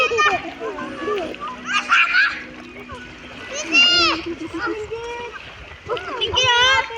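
A child splashes and swims in the water at Marinduque, with bursts of splashing near by while children and adults talk and call out over it.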